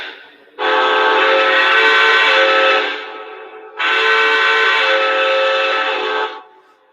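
A LEGACY 4-12-2 model steam locomotive sounds two long, loud whistle blasts, each held for about two and a half seconds, separated by a short pause.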